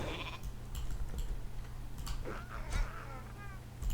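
Sheep bleating from a polymorph spell cast in World of Warcraft Classic, a few short wavering bleats near the end over steady game noise and background sound.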